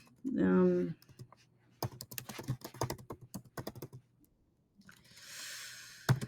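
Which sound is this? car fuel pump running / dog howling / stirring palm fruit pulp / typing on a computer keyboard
typing on a computer keyboard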